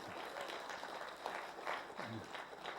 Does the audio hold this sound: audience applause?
yes